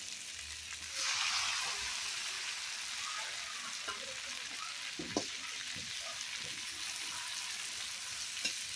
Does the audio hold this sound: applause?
no